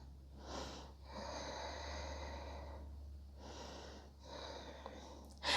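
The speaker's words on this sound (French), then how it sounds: "Prends 3 respirations." Slow yoga breathing with three long, audible inhale-exhale cycles, close and steady over a low background hum, with no talking.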